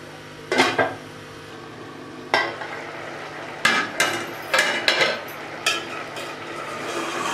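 A cooking pot of chana pulao with shimla mirch being covered, heard as a series of sharp metallic clanks and knocks of lid and utensils, fairly close, spaced irregularly over a faint background hum.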